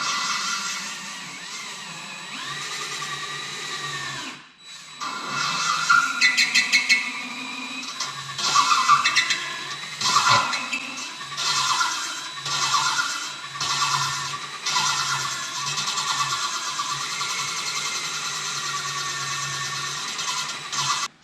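A valve from a 1969 Buick Riviera big-block cylinder head is spun by hand against its seat under light downward pressure, making a steady, close grinding whir with brief pauses.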